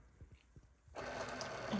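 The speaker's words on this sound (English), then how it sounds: "we're just going to press the Cricut button, and then it's going to prepare," A Cricut machine begins cutting vinyl after a few soft taps, its quiet whirring motor starting abruptly and running steadily to the end.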